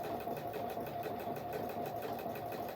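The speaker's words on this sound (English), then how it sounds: "I'm going to do the stretch stitch here." Pfaff Performance 5.0 sewing machine running steadily through a stretch stitch, a continuous close mechanical whir with a fast, even needle rhythm and no talk.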